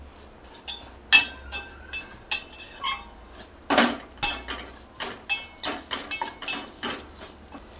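Vermicelli is lightly roasted in a pan, heard as a run of irregular metallic scrapes and clinks of a spoon against the pan, close and uneven, with a faint underlying hiss.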